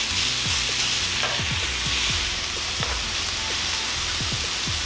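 Steak fajita meat sizzling and frying on a Presto indoor electric griddle, a loud steady crackling hiss up close with occasional stirring and scraping, no talking.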